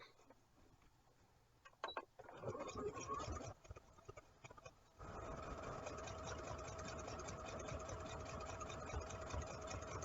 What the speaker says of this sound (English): so now we're just stitching down this other end here.